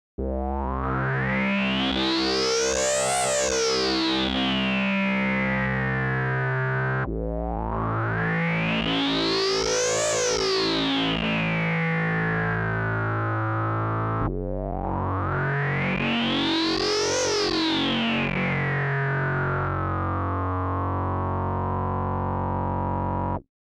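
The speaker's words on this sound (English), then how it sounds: "Switch back to overdrive and hear how that sounds." Distorted Cherry Audio Crumar Spirit synthesizer tones with overdrive sweeping up and back down three times in long repeated filter arcs, loud, buzzy and gritty, with no voices.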